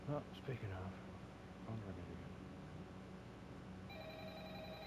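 A phone rings in a Minecraft Five Nights at Freddy's map, with short bursts of tone early on and a steadier electronic ring near the end, mixed under game noise and a voice.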